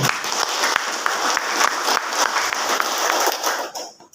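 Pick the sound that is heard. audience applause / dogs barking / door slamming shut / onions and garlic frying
audience applause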